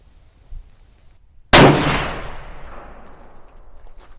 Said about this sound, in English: I say we take a couple more shots out of it